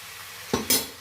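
Ghee rice tossed in a hot pan, two or three quick scraping stirs of a spoon over a steady low sizzle, close by.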